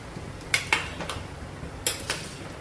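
Salted amla (Indian gooseberry) gets mixed in a cooking pot, producing a few soft scraping stirs and light metallic clinks of a spoon against the vessel, quiet and close, with no talk.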